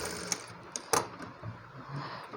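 A sewing machine makes a few short bursts of stitching along the shoulder seam of a frilled long frock, quiet, close rhythmic clatter with brief pauses.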